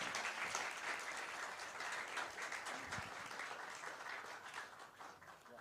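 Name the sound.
audience applause for a memento presentation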